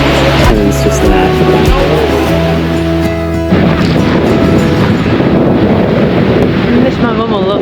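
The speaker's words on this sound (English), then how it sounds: "Going down like a really steep hill in gale force winds." Heavy gale-force wind buffets the microphone on a steep hillside in Iceland near a waterfall, a loud continuous roar with gusting rumble, while a voice talks over it at first.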